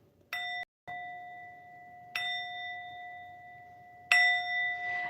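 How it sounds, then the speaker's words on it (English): A bell struck three times, spaced about two seconds apart, each strike a clear ringing tone that sustains and decays slowly, the last strike slightly louder, with no talk. "go ahead and ring the bell 3 times"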